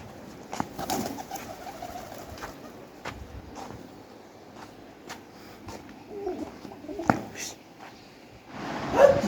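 Soft pigeon cooing mixed with faint scattered clicks and rustles, low and somewhat distant, with a dog briefly audible nearby.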